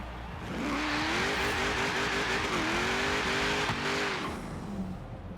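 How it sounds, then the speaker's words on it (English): An 800-horsepower race car in the video game Forza Horizon 3, engine revving hard and climbing through gears with a brief dip between shifts, loud and close, then easing off toward the end. "Yep, this is the 800 horsepower car."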